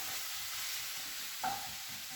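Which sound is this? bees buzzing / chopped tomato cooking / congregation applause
chopped tomato cooking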